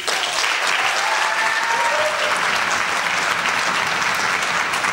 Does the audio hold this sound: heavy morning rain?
no